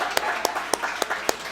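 Steady rhythmic hand claps from a small group at a girls' flag football practice, six sharp evenly spaced claps close by, with faint background murmur between them.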